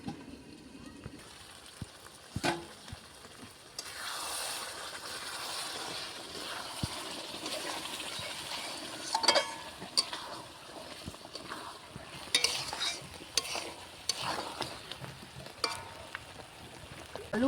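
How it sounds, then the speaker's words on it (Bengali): Potatoes and spices stir-fried in a pan, a soft sizzle with intermittent scraping and clinking of a spatula, fairly quiet and irregular. "আলু আর মশলা তো কষিয়ে নিয়েছি,"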